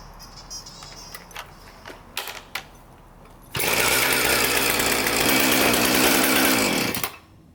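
A chainsaw with a freshly repaired kill switch is started after a few faint knocks and runs at a loud, steady buzzing idle for several seconds, then cuts off abruptly.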